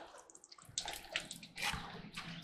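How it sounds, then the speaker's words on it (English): Water drains from the freshwater tank under a 2021 Keystone Springdale 260BH bunkhouse travel trailer, giving a soft, steady splashing and trickling that swells in uneven surges and stays fairly faint throughout. "draining the water that's in the freshwater tank out"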